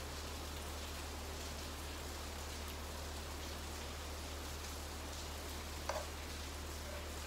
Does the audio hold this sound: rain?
yes